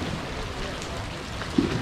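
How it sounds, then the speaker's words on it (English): Rain falls steadily on a dive boat in the Philippines during a tropical storm, a close, continuous patter of drops on surfaces with a brief thump near the end and faint voices mixed in. "if you dive in the rain, you might get wet, Lut."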